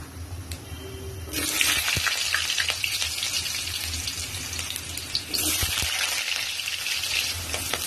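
Potatoes fry in hot mustard oil seasoned with nigella seeds, a steady loud sizzle that jumps up sharply just after the first second as the pieces hit the pan, with a few stirring clinks and a second surge near the end.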